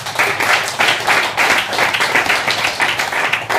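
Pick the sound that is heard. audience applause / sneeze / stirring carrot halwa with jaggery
audience applause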